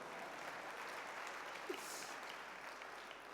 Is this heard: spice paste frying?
no